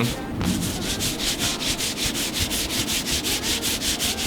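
A computer mouse slides back and forth on a SteelSeries QcK Frost Blue cloth mouse pad with a medium-grip surface. Steady, rhythmic rubbing strokes repeat about four times a second, close and clear, with no talking.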